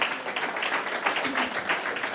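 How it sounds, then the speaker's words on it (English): Audience applause after a song at a Sunday service, a steady wash of clapping from a modest crowd with no talk over it. "Let's give him a round of applause."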